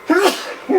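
A single sharp sneeze bursts out close and loud, followed by a softer trailing breath and the start of another vocal sound.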